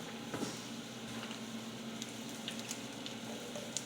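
Homemade chicken nuggets frying in about an inch of oil in a 10-inch non-stick skillet, with a steady quiet sizzle and small crackling pops throughout.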